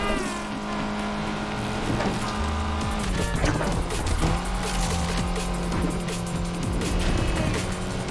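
A Lotus Exige S in Need for Speed Unbound, tuned as an A-class grip build, drives hard with a loud revving engine, shifting pitch through gear changes, tire squeal and occasional bumps, with music underneath.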